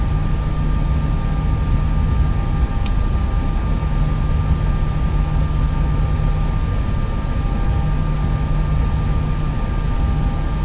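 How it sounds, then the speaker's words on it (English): Airbus A320 engines at full TOGA takeoff thrust in a flight simulator, heard as a steady, loud, sustained jet roar with a constant tonal hum, unbroken for the whole stretch with no talk. "I just wanted to show you guys the full toga sound"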